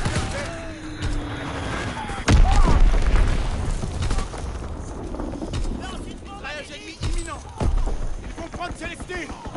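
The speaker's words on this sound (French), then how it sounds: "Bombe ennemie larguée." A heavy bomb explosion lands in a PS4 war video game, a sudden loud booming blast with rumbling debris, followed by scattered thuds and battlefield noise while voices talk throughout.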